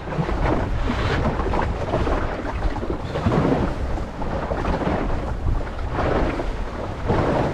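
Strong wind buffets a sailing boat heading upwind, a loud, steady roar of gusts and rushing water that rises and falls over the whole stretch with no talk.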